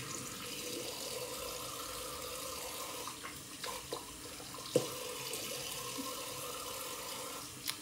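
A bathroom faucet runs steadily during a shave, a continuous soft hiss of flowing water with a few small knocks and splashes.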